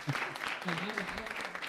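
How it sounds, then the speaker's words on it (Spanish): Audience applause for a guest on a Spanish-language talk show about youth, with a voice speaking over the clapping for most of the moment. "Un aplauso, hombre, para Javier."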